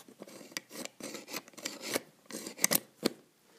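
A Gerber Ghost Strike knife blade rubs and scrapes against its rivets as it goes in, giving close, dry rasping scrapes in short irregular bursts with a few sharper clicks.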